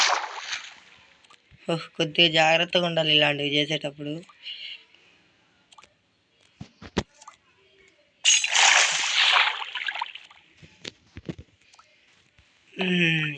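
A loud splash into water in a Craftsman video game, with a short burst of sloshing, breaks in between stretches of someone talking.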